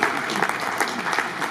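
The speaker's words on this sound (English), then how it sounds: "Please let's clap for them." A crowd at an inauguration ceremony for housing reform schemes applauds, a dense, steady burst of clapping from many hands filling the whole short stretch.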